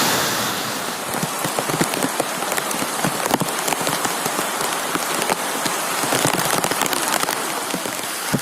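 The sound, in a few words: heavy rain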